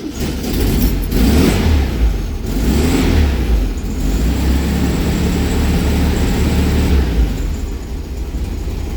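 A 1970 VW Beetle engine with a charging-system fault runs loud and close throughout, revving up and down in steady surges with no talk over it.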